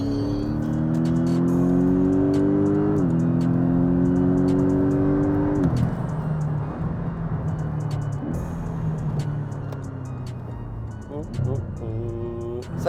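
A Porsche 718 Boxster GTS engine revs loudly while driving, with rising and falling engine tones and a gear change, before fading into road and wind noise as voices speak.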